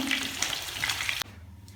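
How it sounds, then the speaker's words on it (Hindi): Chicken pieces frying in a pan for an Arabic rice and roast chicken dish, giving a steady, close crackling sizzle that cuts off abruptly partway through, leaving a faint low hum. "बाकी की सारे पीसेस जैसे हम फ्राई कर लेते हैं"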